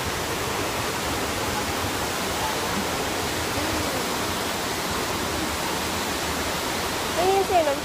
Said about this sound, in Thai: ได้ยินเสียงน้ำตกไหมคะ